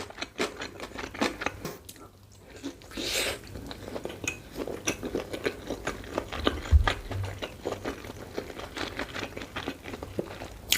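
Dumplings are eaten close to the mic during a mukbang, with repeated soft bites, chewing and wet mouth sounds. Occasional crinkly clicks sit under the chewing, and no one speaks.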